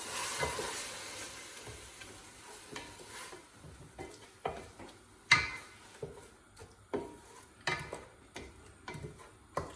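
Grated onions and butter stirred in a pan while cooking garlic butter lobster, with a soft steady sizzle and several sharp spoon clicks and scrapes against the pan, close and moderately loud with no talking.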